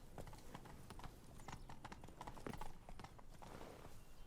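Horse hooves clip-clop in The Witcher 3 video game, a fairly quiet, steady run of rhythmic hoofbeats continuing without pause, close by.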